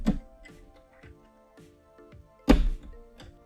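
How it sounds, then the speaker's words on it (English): An Xbox One S's black plastic bottom cover is pried open, giving a string of soft clicks and thunks and then one sharp, louder snap near the end as the clips release. "It should sound like this when you open the black cover"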